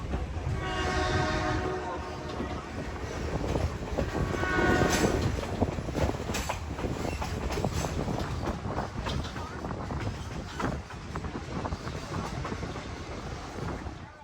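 A Great Smoky Mountains Railroad train, on the old Southern Railway Murphy branch line, rumbles steadily along with a continuous rolling roar, and a horn sounds early on over the running noise.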